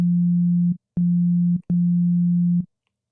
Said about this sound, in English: It's going to create a sine wave.